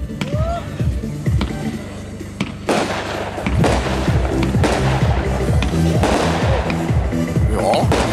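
A fireworks battery firing 96 rapid 25 mm shots, sharp bangs and crackles in quick succession, loud and close.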